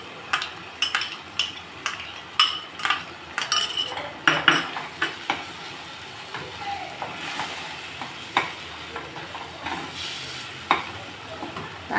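Onion, tomato and chilli frying in a pan for a Bengali fish curry, with repeated metal clinks and scrapes of a utensil stirring against the pan over a steady sizzle, close and fairly loud, with no talk.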